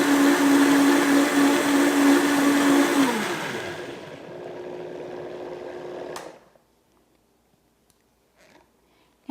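Blender whirling a chia pudding mixture of nuts, coconut, agave nectar, cinnamon and salt: a loud, steady high whir that winds down, hums faintly and then cuts off into near silence.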